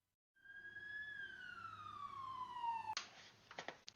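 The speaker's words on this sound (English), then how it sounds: "or a fire truck siren" A wailing emergency siren sweeps slowly downward in pitch, loud and steady, then cuts off abruptly into brief clattering noise.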